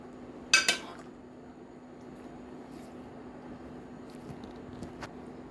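Boiled spare ribs go into a pot of arranged stuffed chard rolls with rice and meat, giving two sharp metallic clinks near the start, then only a faint steady hum with a few soft taps.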